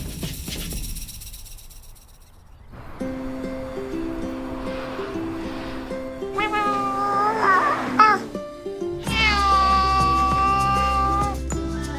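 A distressed cat at a veterinary clinic lets out several drawn-out, wavering meows and yowls, loud and close, separated by pauses with room noise and rustling between them.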